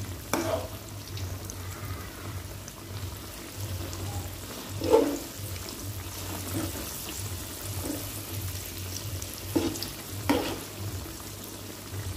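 Steady hissing and crackling of fermented cassava snacks frying in oil, with occasional louder pops and stirring clatter, no talking.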